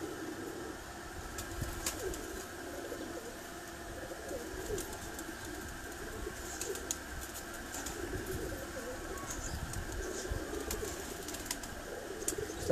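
On a rooftop pigeon breeding setup, Imamdin pigeons give low continuous cooing with occasional wing flutters, steady and fairly faint against a hum, with faint voices in the background.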